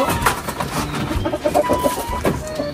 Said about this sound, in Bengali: এই দ্বিতীয় মুরগিটার খাবার দিব